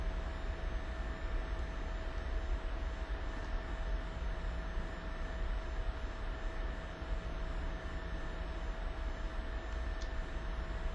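Airplane engine in the X-Plane 11 flight simulator during a steady descent: a continuous broad roaring drone with a steady tonal hum, unchanging and moderately loud for the whole stretch, with no speech.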